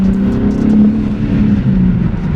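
A BMW G80 M3 with a manual gearbox, its engine heard from inside the cabin as a loud, low, steady droning hum with a slight swell in pitch, continuous and without voices.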